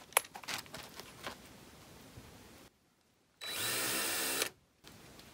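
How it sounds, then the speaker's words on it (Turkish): A power drill countersinks screw holes in wooden paneling on a timber house build: a few knocks of handling, a short pause, then one loud, steady whirring bite lasting about a second before it stops. "vidaların gireceği yerlerde vida başının oturması için ufak bir vida başı için yer açacağım"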